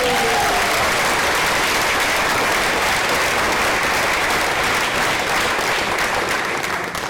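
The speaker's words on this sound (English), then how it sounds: "That deserves a round of applause." Sustained audience applause at a high school retirement reception, a dense steady wash of many hands clapping close and loud for the full stretch with no talk over it.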